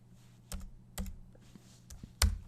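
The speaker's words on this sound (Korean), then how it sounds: "여기에서 창들을 눌러서 컨트롤 알트 마이너스를 눌러주세요." Keys on a computer keyboard are pressed for Photoshop shortcuts, five or six separate close clicks spaced irregularly over a quiet background, with the last tap the loudest.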